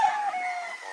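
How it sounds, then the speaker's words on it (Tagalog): A single rooster crow, drawn-out and fairly faint, trailing off at the end with no other sounds around it. "Mga gwapong mga"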